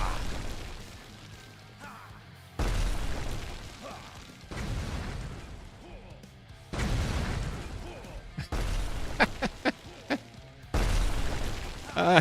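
Bombs thrown by a frog enemy in a Unity-made video game burst in several short, heavy booms at intervals, each a sudden loud thump with rumbling tail, amid quieter game sounds and sharp clicks.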